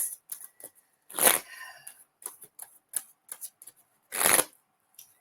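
Close, crisp tarot card shuffling: scattered light taps and slides broken by two longer riffling bursts, with no voices.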